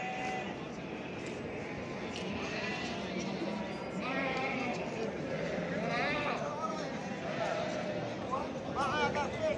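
Sheep and lambs bleat repeatedly at the crowded Çorum small-livestock market. Their calls overlap through steady crowd murmur and chatter, with people talking throughout.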